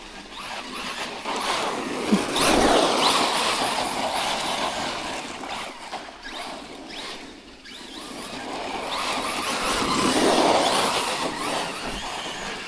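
A Traxxas Rustler 4x4 Ultimate RC car blasts around nearby, its electric motor whining in broad rising and falling surges of wheel speed, with gritty surface noise throughout and no talking.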